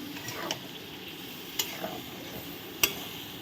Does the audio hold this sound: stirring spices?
yes